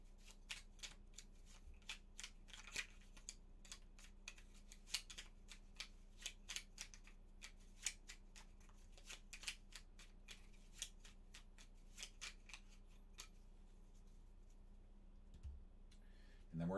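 Cards from the Lost Ruins of Arnak board game being shuffled, a steady run of soft, crisp riffling clicks that goes on for most of the stretch and ends with a brief thump.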